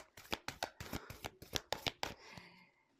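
A deck of playing cards is shuffled by hand in a rapid run of about nine sharp, riffling bursts, close and clear, ending in a softer rustle with no talking.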